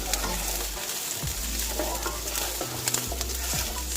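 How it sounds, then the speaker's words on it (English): Celery and black pepper are stirred in a hot frying pan, a constant close sizzle with scraping utensil strokes against the pan, no one speaking. "And now I'm going to throw in my celery guys, just like that, and we're going to stir it around here."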